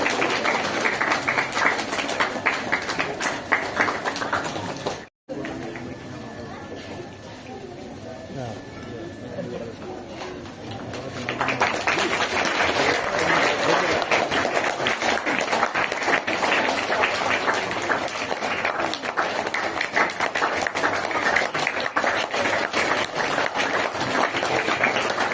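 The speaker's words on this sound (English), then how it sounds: "A big round of applause" An audience claps steadily to welcome the chief guest at a school exhibition event. The applause is broad and continuous, with a brief dip partway through before it swells again.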